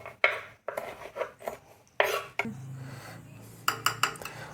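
A knife cuts cashews into small pieces on a board, giving a few sharp, close taps and clicks with brief scraping between them and no talk.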